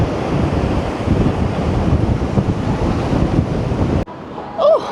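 Strong wind roars and buffets the microphone over crashing surf on the Blackpool seafront for about four seconds, then cuts to a quieter, calmer scene.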